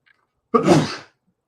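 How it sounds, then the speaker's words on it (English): A single sharp sneeze, loud and close, bursting out of silence and trailing off quickly. "I was just a regular common sneeze"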